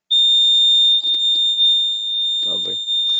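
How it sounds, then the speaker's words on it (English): A fire alarm sounds a loud, continuous high-pitched electronic tone throughout, with brief bits of a voice and other noises underneath it. "That is my fire alarm."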